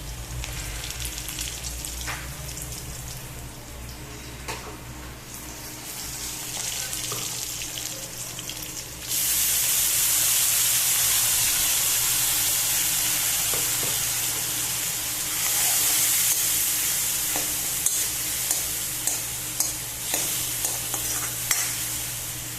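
Ginger-garlic paste hitting fried onions in a pan, a low sizzle that jumps to a loud, bright hiss and crackle, with spatula scrapes and taps near the end and no talking.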